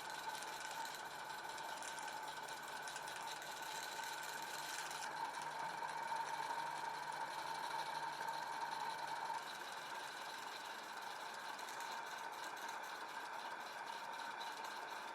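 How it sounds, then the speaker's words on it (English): A safety valve on a live steam model locomotive blows off with a steady, even hiss that runs continuously under a faint mechanical hum, with no talk. "what you've just heard there is the safety blowing off"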